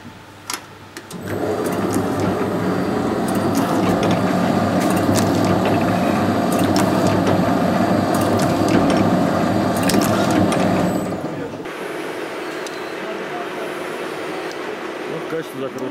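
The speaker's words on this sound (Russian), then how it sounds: "Давайте я вам продемонстрирую, как он закатывает флакон." An MZ-400E4 capping machine with a vial-presence sensor crimps a cap onto a vial, giving a loud, steady mechanical whirring hum for about ten seconds that then drops to a quieter motor drone, with faint clicks throughout.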